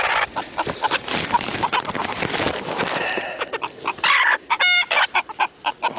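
Several chickens cluck and squawk nearby while their wings are being clipped, with scattered sharp calls and a fluttering, rustling scramble, one bird crowing briefly toward the end.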